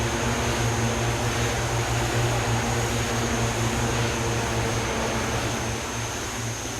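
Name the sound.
De Havilland DHC-6 Twin Otter on skis, engine, flight simulator game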